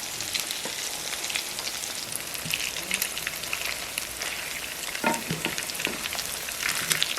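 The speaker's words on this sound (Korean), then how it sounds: "팬에 오일을 넉넉히 넣고 하나씩 재빠르게 넣어주시고요" Breaded broccoli pieces sizzling in a generous amount of oil in a pan, a continuous crackling hiss with scattered sharper pops and a few soft clinks, close and steady.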